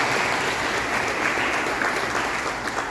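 A church congregation claps in a steady, dense round of applause, a full wash of many hands heard close and evenly throughout.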